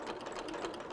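A sewing machine runs a steady, continuous straight stitch along the edge of a fabric hexagon for a modern hexie quilt, its close, even mechanical whir filling the whole short moment with no talk.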